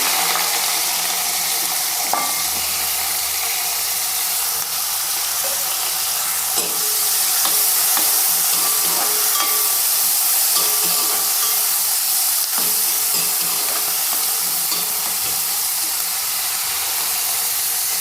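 Sliced onions sizzle and fry steadily in hot oil in a pan for a Kerala-style chicken curry, a continuous hiss with small crackles and occasional stirring clinks, close and alone without talk.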